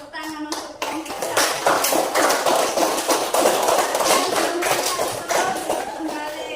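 A classroom audience applauds a student group after its presentation. A few scattered taps give way to sustained, fairly loud clapping from many hands, with some voices mixed in.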